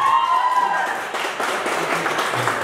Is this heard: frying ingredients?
no